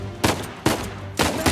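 Three sharp bursts of gunfire in Uncharted 4, each a quick double shot, loud and close, spaced about half a second apart.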